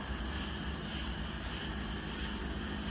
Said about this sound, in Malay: Bunyi kipas siling.